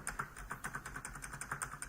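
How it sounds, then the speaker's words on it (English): Keys and spacebar on a cheap wireless keyboard, cleaned and repaired after a sticking spacebar, are pressed in a quick, steady run of close, crisp plastic clicks, about a dozen strokes. "The spacebar isn't sticking like it was before."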